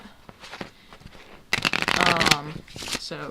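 Playing cards are shuffled in quick riffling bursts, a crisp fluttering rush, while someone talks nearby.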